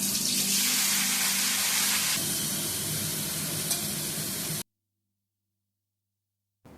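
Chunks of jackfruit frying in hot oil in a pan, a loud, close, hissing sizzle with stirring scrapes that runs steadily, then cuts off into silence before a brief return at the end.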